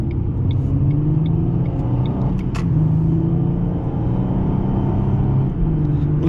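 A 2005 Ford Mustang V6 drives with a steady, loud engine rumble heard from inside, the pitch rising slightly as it accelerates, with small clicks over the drone.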